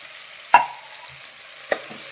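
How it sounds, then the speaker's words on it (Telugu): Masala and ivy gourd frying for a curry, with two sharp stirring scrapes of a spoon in the pan over a faint, steady sizzle. "బాగా ఎర్రగా వేయించుకోవాలి."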